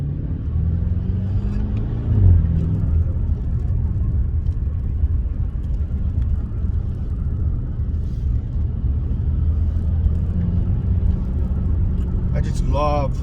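BMW 650i with a 4.4-liter twin-turbo V8 driving along a road, a steady low engine and road rumble throughout with a brief swell near the start and another near the end.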